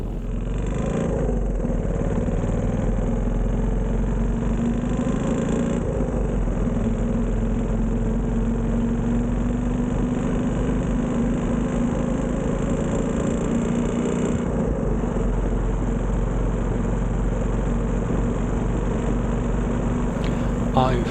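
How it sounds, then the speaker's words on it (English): A motorcycle ridden near Medellín, Colombia, with its piston knocking as if hammering the cylinder, drones loud and steady for the whole stretch, its rumble blurred by a constant rush of wind. "the piston was making a sound like hammering the cylinder"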